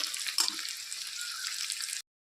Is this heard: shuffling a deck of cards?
no